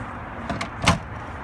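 Camper door opened by pushing its handle down: a couple of light clicks followed by one firmer latch clunk, close and brief, with no talking.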